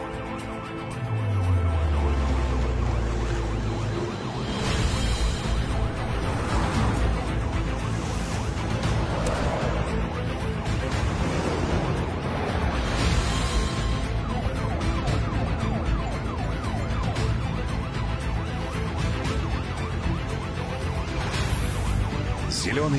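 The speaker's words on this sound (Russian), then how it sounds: "Уступи дорогу скорой." An ambulance siren wails over layered music and background sound, rising at the start and continuing under the mix.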